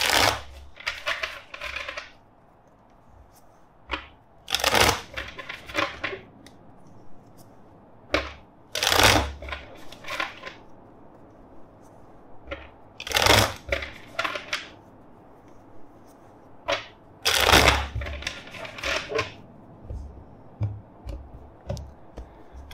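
Tarot card shuffling heard as sharp, crisp riffle bursts at irregular intervals over a faint steady background hiss, close and fairly loud.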